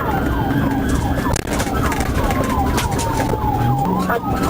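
Police car siren wailing loudly during a high-speed dashcam chase, its repeating rising and falling sweeps steady over heavy road and engine noise, with brief radio-like voice in the mix.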